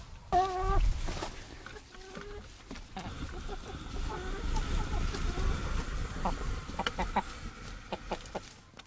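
Chickens in a garden enclosure cluck and squawk close by as they are fed fresh greens such as yellow mustard, with scattered clucks over constant rustling and pecking.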